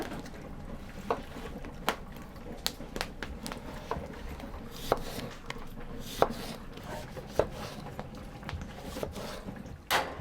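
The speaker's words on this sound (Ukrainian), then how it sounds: "Нарізаємо апельсин і лимон." A knife slicing through orange and lemon on a cutting board, a series of irregular sharp cuts and taps over a soft rubbing background, fairly quiet and close, with no speech.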